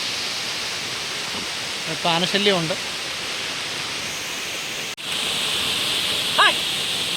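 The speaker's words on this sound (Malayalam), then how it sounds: "നല്ല അടിപൊളി വെള്ളച്ചാട്ടമാണ്" Manpilavu waterfall in forest country, a steady broad roar of falling water that fills the whole stretch at even loudness, with someone speaking briefly over it and a short disturbance midway.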